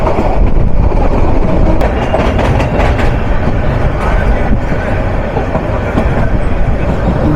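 Train 798 Down Kurigram Express rolls past near the outer signal of Dhaka Airport station at dusk, a loud, steady rumble with rhythmic wheel clatter and sharp clicks throughout, close by.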